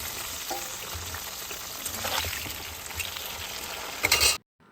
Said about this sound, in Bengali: আমি আলু ভাজার তেলেতেই পটল দিয়ে দিলাম